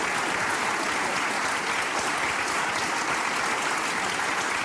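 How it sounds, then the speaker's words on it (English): Sustained audience applause, dense and steady throughout, with no pauses or voices standing out. "Please clap."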